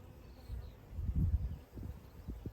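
Honeybees in an open, queenless hive hum in a faint low buzz that swells briefly and fades, close and quiet with no talk over it.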